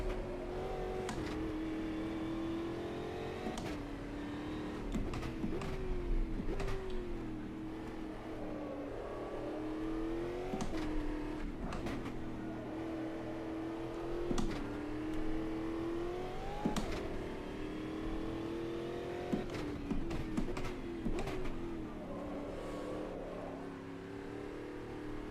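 Stock cars race at Interlagos in Automobilista 2, engines droning and revving steadily with rising and falling pitch through gear changes, a close in-car roar with other cars faintly around, no talking.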